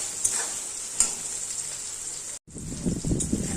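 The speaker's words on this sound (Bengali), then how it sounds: "পেঁয়াজটা একটু ভাজা ভাজা হয়ে যাবে" Onion sizzling in hot oil in a pan while a spoon stirs it, a steady high crackle with a couple of scraping knocks, a brief gap, then louder stirring and frying.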